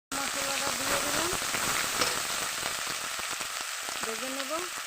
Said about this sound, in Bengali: ভালো করে নেড়ে ফেড়ে ভেজে নেব।